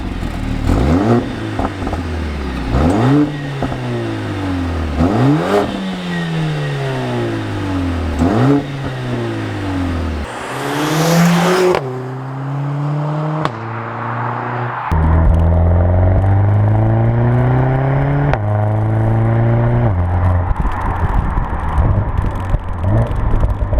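A 2021 Mercedes-AMG GLA 45 4MATIC+ engine revs hard through a run of upshifts, with repeated rising pulls, each cut by a short gear-change drop, loud and close throughout.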